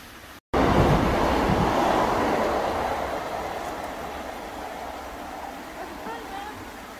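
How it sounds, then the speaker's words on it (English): A train passes close by near the Peak Forest Canal, a sudden loud rush of rumbling wheels and wind that slowly fades as it moves away. "Train!"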